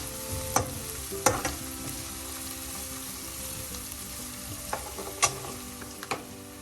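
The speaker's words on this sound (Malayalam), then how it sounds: "ഈ സമയം നമുക്ക് 1/2 ടീസ്പൂൺ മഞ്ഞൾപ്പൊടി ചേർക്കാം. മഞ്ഞൾപ്പൊടി ഓയിലിൽ കിടന്നൊന്ന് മൂക്കട്ടെ." Half a teaspoon of turmeric powder frying in hot coconut oil for a crab roast, a steady close sizzle broken by a few sharp scrapes and clinks of a stirring spoon against the pan, with no talking.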